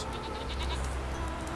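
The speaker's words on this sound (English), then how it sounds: "A gathering of mountain goats. Rams." Mountain goat rams bleat in a Witcher 3 village outskirts scene, a short burst of nasal, wavering calls from nearby animals over a thick ambient game backdrop.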